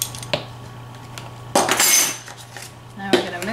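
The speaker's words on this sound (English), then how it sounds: "Now we're going to mix all these things up really well" A spoon scrapes and clinks against a bowl while apple pie filling with cinnamon and nutmeg is stirred, in several short bursts separated by pauses, close and fairly loud.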